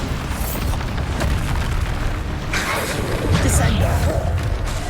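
Bombarda blasting spell in the Hogwarts Legacy video game, booming explosions repeating under a steady roar of game effects and rumbling low-end noise, fairly loud throughout with brighter crackling bursts near the middle and end.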